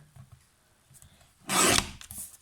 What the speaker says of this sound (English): we can get our little guillotine